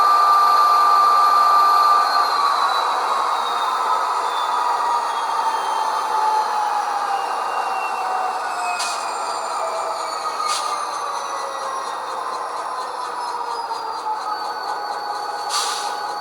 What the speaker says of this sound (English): Now we'll just move the throttle button in order to get it to rev back down.